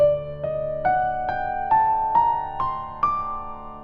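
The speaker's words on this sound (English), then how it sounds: "was D Phrygian dominant, which sounds like this normally." D Phrygian dominant scale played as eight ascending notes on a sustained instrument, each note struck evenly about half a second apart, climbing steadily with no voices.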